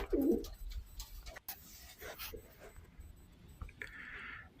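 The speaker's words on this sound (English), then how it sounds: "Good looking all black pigeon" Racing pigeons coo in a loft, starting with a low coo and followed by soft rustling and faint chirps nearby.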